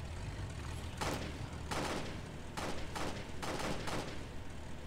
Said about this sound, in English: Dude, are you shooting at me?